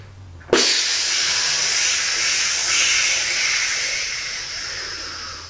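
A 12-gram CO2 cartridge on a stock-class paintball gun pops open with a sharp onset, then a loud, steady hiss of escaping gas holds for about five seconds and fades slowly toward the end.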